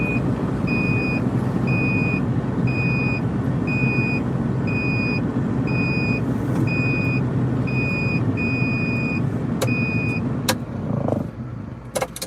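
Steady electronic warning beeps from an injector fault code repeat in an even rhythm over a wheel loader's loud rumbling diesel engine while plowing snow, with a few sharp clanks near the end.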